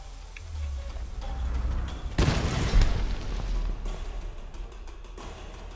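Dynamite blows up in the video game Tomb Raider Definitive Edition at the Solarii Fortress, heard as one muffled boom that rolls and fades over a low droning game background.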